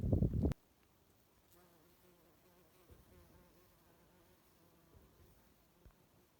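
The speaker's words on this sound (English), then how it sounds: "Very nice little busy bee here." A bee buzzes on a shoreline, a faint low drone under wind and outdoor background noise, after a brief loud thump at the start.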